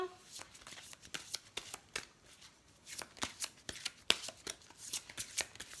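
A deck of tarot or oracle cards is shuffled by hand, a quiet, close run of rapid papery riffles and soft slaps in irregular bursts.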